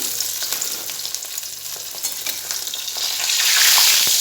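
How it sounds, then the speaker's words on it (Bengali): Prawn and lentil fritters with onion fry in hot oil, a close, steady crackling sizzle with brief stirring scrapes that swells louder toward the end. "মাছটা ভাজা হবে শুধু ঠাকুর পর্যন্ত"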